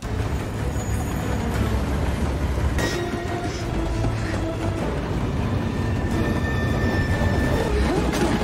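A train rumbles along the rails in a film scene, with a continuous heavy low roar and brief metallic squeals and hisses as it draws near.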